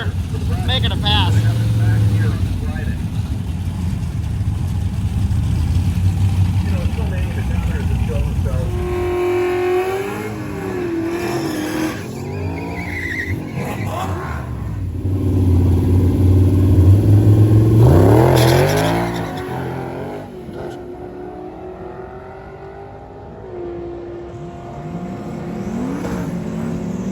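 An LS-powered mid-engine Toyota truck at an Indianapolis drag racing event roars through a pass, the engine revving hard and climbing in pitch as it accelerates, loud and close at times, with voices talking over parts of it.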